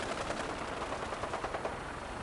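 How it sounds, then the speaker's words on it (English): Rapid gunfire in the video game Fallout 4, fairly distant and muffled, a steady rattle of closely spaced shots over about two seconds with no talking. "They're shooting at somebody in there."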